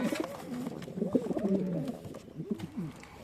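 Adana and homing pigeons coo nearby in a loft, overlapping low throaty rolling calls repeating throughout with faint background rustle.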